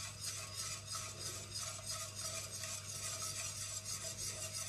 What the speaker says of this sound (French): Alors là, il faut bien remuer.